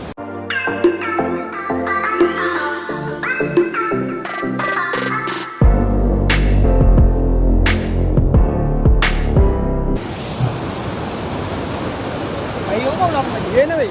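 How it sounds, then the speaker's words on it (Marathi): Tonal, ringing sounds give way to a loud, steady roar of rushing waterfall water at Devkund, Maharashtra, that fills the final seconds. "पाण्याचा आवाज खूप आहे"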